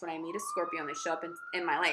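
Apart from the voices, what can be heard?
emergency vehicle sirens in the background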